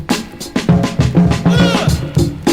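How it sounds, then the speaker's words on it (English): A sampled drum break lifted from a record plays loud and upfront, with punchy kicks and snares in a steady, busy funk rhythm and some tonal bass and melodic content beneath, no talking over it. "I just sampled a drum break from it"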